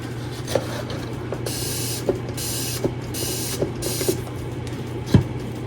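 Powder being sprayed from a container while crafting, heard as several bursts of soft broadband hiss lasting about a second each, with light clicks and taps in between over a steady low hum.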